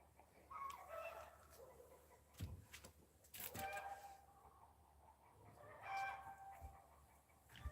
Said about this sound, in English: Sounds like some angry chickens.